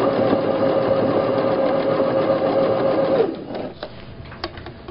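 Sewing machine stitching a tote bag lining with a basted pocket, a steady close mechanical whir at an even pace that slows and stops near the end, followed by a few light clicks.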